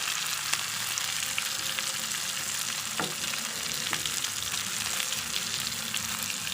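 Garlic and green chili fry in a pan, giving a steady, close sizzle with a few light stirring scrapes throughout and no talking.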